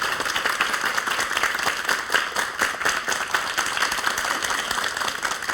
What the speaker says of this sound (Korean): 박수로 강의 청해 주시기 바랍니다